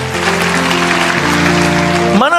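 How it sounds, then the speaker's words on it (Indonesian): A church congregation applauds during a sermon, a steady wash of clapping running under sustained keyboard-like music chords for the whole stretch. "kasih tepuk tangan untuk Tuhan"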